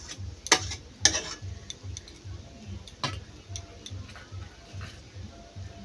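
A Gobindobhog rice sandesh mixture is stirred into a dough in a pan over a very low flame with ghee, giving soft, rhythmic scraping strokes at a steady pace, faint and close, with a few sharper clacks.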